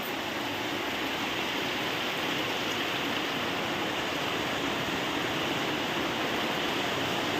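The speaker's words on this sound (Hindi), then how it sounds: "ଆଉ ବହୁତ ଜୋରେ ବର୍ଷା ହେଉଛି, ଦେଖିପାରୁଥିବେ।" Heavy rain pours outside in a dense, steady roar of broadband hiss that holds unbroken from start to finish, with no voices over it.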